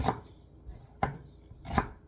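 A knife chops through a large, sweet Korean onion on a cutting board, three distinct close, loud chops spaced about a second apart with quiet between them.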